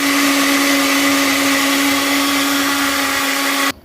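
A mixer grinder whirs loudly at a steady high pitch while grinding snake gourd chutney with salt, its motor running without a break for several seconds before cutting off abruptly at the end.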